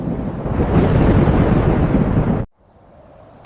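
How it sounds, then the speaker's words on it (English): Loud, rolling thunder rumbles without a break for about two and a half seconds, then cuts off abruptly into a quiet, faint background before a brief noise at the very end. "My son, that is thunder!"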